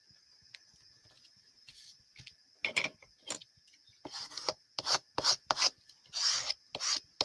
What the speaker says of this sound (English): My trusty glue eraser.